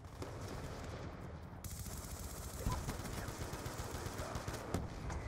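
Black Ops 2 gunfire crackles in rapid automatic bursts, fairly quiet and continuous, with a couple of slightly sharper shots standing out.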